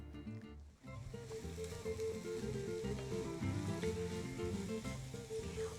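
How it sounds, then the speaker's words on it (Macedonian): Chopped leek frying in a little oil in a small pan on a hot stove burner, a soft, steady sizzle beneath a layer of quiet background music. "Прво го пржиме празот."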